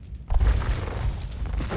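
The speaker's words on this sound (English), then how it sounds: "These bombard cannons are able to pick off from a long range" Heavy booming bombard cannon fire from Age of Empires 2 gameplay, a deep rumbling blast that swells and lingers as a dense low roar of battle noise.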